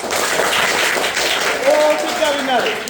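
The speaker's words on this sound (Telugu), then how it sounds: "ముఖ్యంగా మీకు మీరు క్లాప్స్ కొట్టుకోండి ప్లీజ్" Students in a motivational training session for 8th to 10th class clap for themselves, a continuous wash of group applause carrying on under a voice talking over it.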